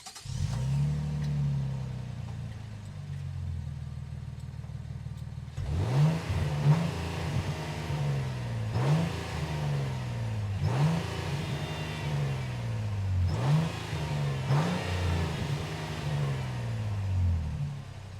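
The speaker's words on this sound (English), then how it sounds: "so I'll fire up the engine" A 2025 Infiniti QX80 Autograph twin-turbo V6 starts and idles, then revs sharply four times in a steady rhythm, each rise and fall clear and close with no talking.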